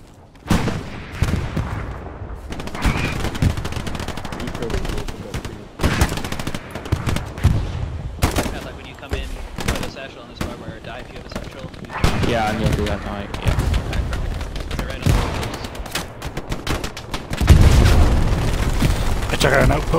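Satchel charge blasts and gunfire in the war game Hell Let Loose come as loud booms and rapid bursts of shots that crowd together throughout, with deep explosions landing near the end and a voice talking in between.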